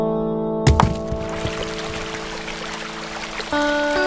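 Water gushes out in an animated Bible story of Moses, a loud burst of pouring, streaming water that starts suddenly and keeps flowing steadily alongside a tonal musical background.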